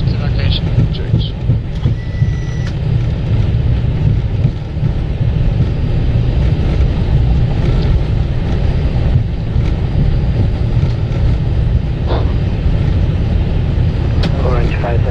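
Airbus A320 cockpit during the landing rollout with reverse thrust and braking: a loud, steady broadband roar and rumble fills the whole stretch, with a few faint clicks and tones on top.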